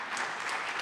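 A brief burst of applause from a crowd, dense and steady throughout.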